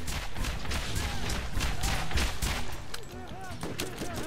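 Rapid bursts of gunfire from a sniper-style weapon in the video game Borderlands, loud, repeated shots layered with game effects, under a voice.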